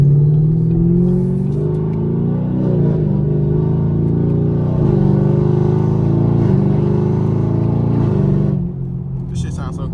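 A catless straight-piped Camaro SS roars on the highway, its loud, deep exhaust drone rising in pitch through several pulls with brief dips between, the rumble close and continuous until it drops off near the end.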